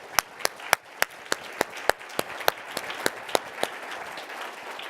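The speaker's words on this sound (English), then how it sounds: "could you finish by joining me in applauding all of them?" A small conference audience claps in sparse, distinct hand claps that form a light, scattered round of applause, moderately close and tapering off after a few seconds.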